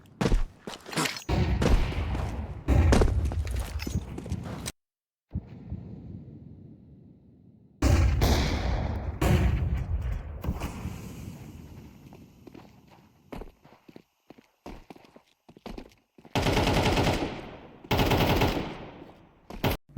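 Desert Eagle pistol shots and other gunfire in a Counter-Strike match ring out in sharp loud bursts, broken by brief silences and footsteps.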